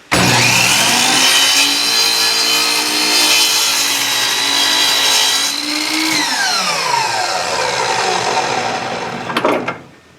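Power saw cutting through wood trim, a loud close whining buzz sustained for several seconds, then pitch dropping as the blade spins down, ending with a brief clatter.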